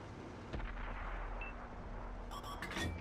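Tank cannon fire in a tank video game: one sharp, heavy boom followed by a rumbling tail, with faint game effects and clicks later.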